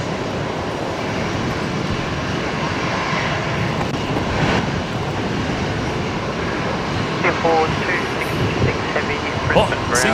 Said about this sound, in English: Next arrival on 19 left is going to be Qantas 938s coming in from Perth.